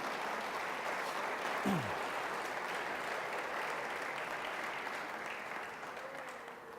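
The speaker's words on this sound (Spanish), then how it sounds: "Y le damos un fuerte aplauso, hermano, al Señor esta mañana" Congregation in a church applauding steadily for the full stretch, broadband clapping that stays even and fairly distant, tapering slightly near the end, with a brief tonal sound midway.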